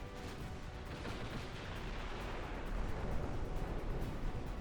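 The 14-inch guns of the Russian battleship Apostle Piotr firing in Ultimate Admiral Dreadnoughts, a continuous dense rumble of overlapping blasts and explosions, steady and fairly loud, with no talk.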